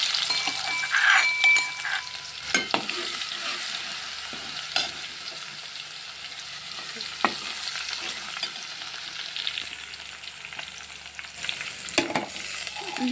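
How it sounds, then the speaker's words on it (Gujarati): Garlic sizzles in hot oil, tempering for a dish of amaranth greens, a steady close frying hiss broken by occasional stirring scrapes, with no voices. "આપણું તેલ ગરમ થઈ ગયું છે તો આપણે ભાજી વઘારી નાખીએ તો પહેલાં તો આપણે લસણ નાખી દઈએ"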